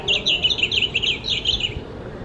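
Bird calls at a botanical garden: a quick series of bright, high chirps repeated in a clear run, close and fairly loud over a soft background hum, with no talking.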